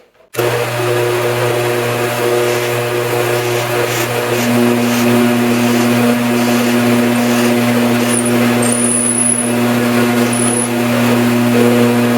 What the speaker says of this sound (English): So I'm just going to go ahead and drill this hole.